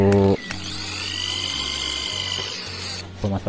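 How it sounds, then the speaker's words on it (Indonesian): Power drill boring nail holes in bamboo while assembling a chicken coop from scrap bamboo and corrugated sheet; a steady, continuous whine runs for about three seconds, bracketed by brief talk at the start and end. "pemasangan pakunya sendiri ya sobat, kita gunakan bor"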